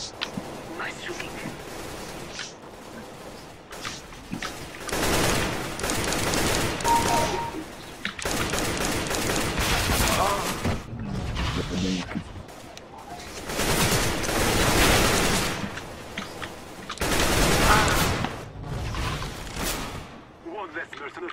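Bursts of automatic gunfire in a first-person shooter game, loud and repeated in clusters with short gaps, mixed with game sound effects and a voice speaking over the action.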